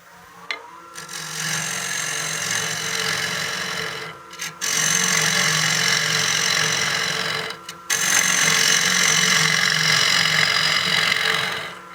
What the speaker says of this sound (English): These square cutters make it really easy to remove a lot of material at a time.